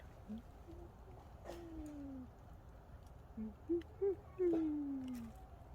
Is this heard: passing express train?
no